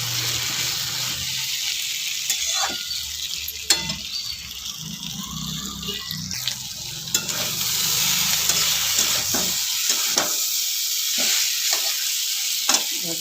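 Besara bhaja of beans and potato fries in a pan with a constant hissing sizzle, broken by repeated clacks and scrapes of a stirring spoon, close and clear with no speech.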